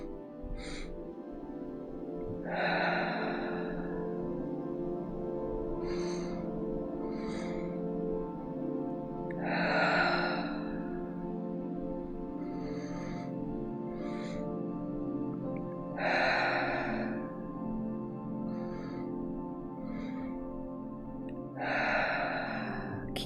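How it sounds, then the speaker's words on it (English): Slow, deep meditative breathing, each full exhale drawn out and audible, repeating about every seven seconds in a steady cycle, close and fairly soft against a quiet low background hum. "exhaling fully and completely."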